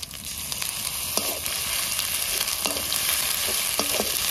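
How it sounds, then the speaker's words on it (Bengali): Cumin paste frying with ginger and garlic for an egg-and-aubergine dish: a steady close sizzle with short scraping stir strokes at intervals, no voices. "আদা রসুনটা একটু ভেজে নিয়েছি, এবার দিয়ে দেবো জিরে বাটা"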